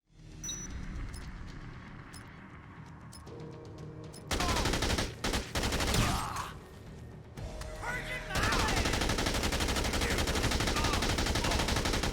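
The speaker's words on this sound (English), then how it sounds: "Now run to Psycho number 3 and just shoot him a bunch too." Bursts of automatic LMG gunfire aimed at a psycho boss in Dead Rising 2, loud sustained rattling volleys broken by short pauses over game ambience.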